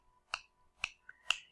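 Three sharp finger snaps, evenly spaced about half a second apart in a quiet room, crisp and close.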